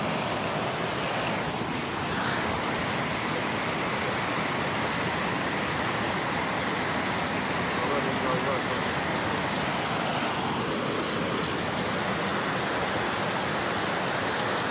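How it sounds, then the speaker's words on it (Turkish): Mountain stream in Hemşin Kantarlı, a steady broadband rush of flowing water filling the whole stretch at constant level, with faint voices in the background. "Gördüğünüz gibi dere doğal bir ortam."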